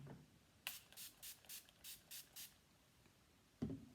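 Spray hisses from a can during a goth makeup transformation: seven quick, evenly spaced bursts in a row, each soft and close, opened and closed by faint clicks and rustles in a quiet room.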